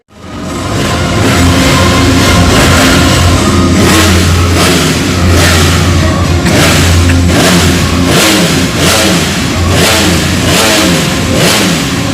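A Ducati V4 superbike engine at a dealer launch event in Malaysia revs loudly and continuously, with repeated throttle blips rising and falling over a harsh, dense mechanical roar.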